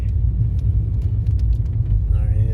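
Inside a car during Hurricane Milton in Celebration, the road gives a steady low rumble with faint ticks and rattles throughout, and there is no clear talk.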